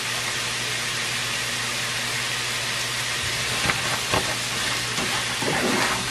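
Chickpeas sauté in seasonings in a hot pan with a steady, loud sizzle throughout, joined by a few light clinks and scrapes of stirring in the second half.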